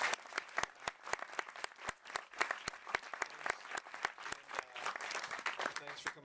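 An audience at a talk applauds with a dense patter of clapping and sharp individual claps, steady and fairly close, with a voice talking faintly underneath.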